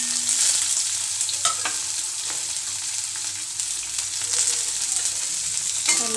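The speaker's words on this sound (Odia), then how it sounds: "ଲାଲି ହେଲା ପାଇଁ ଭାଜି ନେବା" Chopped onion with cumin frying in oil, a loud continuous sizzle with crackles and stirring scrapes, steady and close throughout, no speech.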